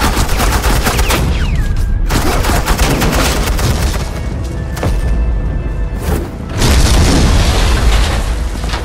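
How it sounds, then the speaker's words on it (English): Loud, dense suppressing gunfire in Batman: The Enemy Within, rapid overlapping shots and booms pounding continuously close by, with no voices. "suppressing fire"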